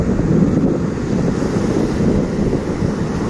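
Powerful surf breaks at Barra Vieja beach where the sandbar opens, a steady loud roar of churning waves mixed with heavy wind buffeting the microphone, with no talk.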